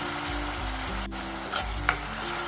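Steady sizzling of a finely ground tomato puree frying in hot oil, close and continuous, with a couple of soft stirring clicks and no voices.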